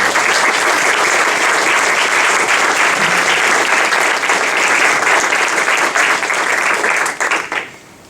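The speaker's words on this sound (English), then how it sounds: "please give a warm round of applause for Dr. Foley" An audience at a ClimateLink climate event in San Francisco gives Dr. Jonathan Foley of Project Drawdown a warm, dense round of applause. The clapping stays loud and even, then tapers off quickly at the end.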